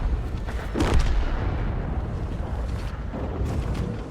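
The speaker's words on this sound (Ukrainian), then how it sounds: "Встиг дати ще один постріл." A single heavy tank cannon boom in World of Tanks rings out, followed by a long, rumbling low roar that lingers and fades slightly without any voices.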